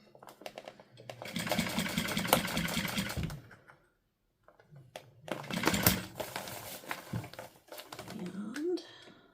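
Sewing machine running a quarter-inch seam around fabric, two long bursts of fast, close stitching separated by a brief silence, with quieter handling sounds at the end.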